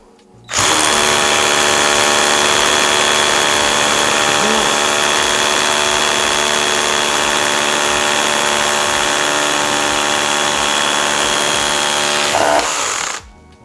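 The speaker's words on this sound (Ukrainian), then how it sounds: "потрібно пробувати сверлити ось таким чином, не натискаючи на самий перфоратор" A Vitals Master ARa 1618-2P cordless rotary hammer drills loudly and steadily for about twelve seconds with a constant high whine and grinding, stopping abruptly near the end.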